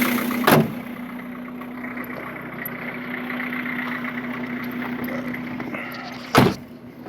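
A Volvo 240 diesel engine idles steadily with a low, even clatter and hum, nearby and continuous, framed by two sharp thumps like a car door at the start and near the end.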